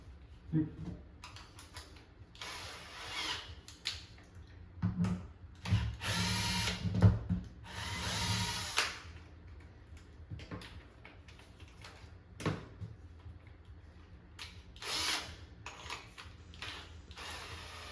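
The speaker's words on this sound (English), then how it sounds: "just to see where the drill bit was coming through" A power drill bores through a floor in repeated bursts, some short and some longer, whirring with mechanical grinding and pauses between runs. A voice talks quietly in the gaps.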